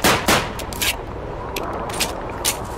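Rifle shots fired at teddy bear targets on a Call of Duty 2 shooting range, several sharp cracks spaced irregularly across the moment, moderately loud over low background noise.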